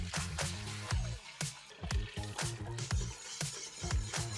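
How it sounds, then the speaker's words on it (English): Homemade vegan broth strains through cheesecloth with close, wet dripping and squishing that pulses in repeated bursts and soft splashes. "Now it's time to strain it"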